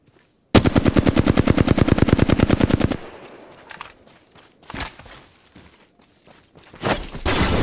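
Rapid automatic gunfire in the battle royale game Apex Legends, a loud sustained burst of about two and a half seconds followed by scattered single shots, clatter and movement sounds.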